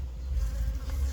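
Honeybees buzz steadily at frames pulled from a beehive, a close, dense, continuous hum with no voices.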